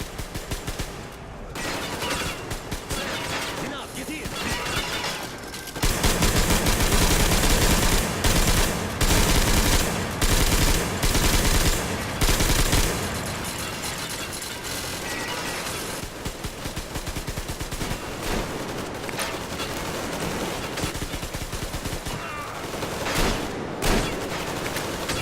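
Dense gunfire from the video game Metro: Exodus, with loud rapid bursts and overlapping shots running almost nonstop, peaking in an intense stretch partway through.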